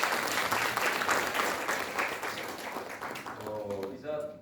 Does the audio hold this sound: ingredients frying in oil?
no